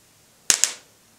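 An electric mosquito racket fitted with a lithium battery crackles twice in quick succession, two sharp loud sparking snaps with a brief fading tail, otherwise quiet.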